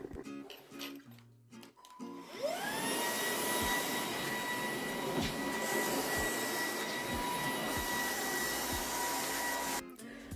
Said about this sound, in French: je vous laisse écouter un petit peu donc le bruit de l'aspirateur